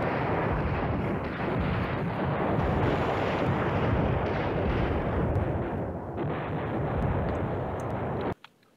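Dense, continuous bombing and artillery fire rumbles in the Command Ops 2 war strategy game, a loud unbroken roar of blasts that cuts off abruptly at the end.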